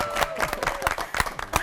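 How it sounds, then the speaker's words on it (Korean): Church audience claps before a hymn, giving a short burst of close, uneven hand claps from a modest crowd. "박수를 한번 주셔야 돼요"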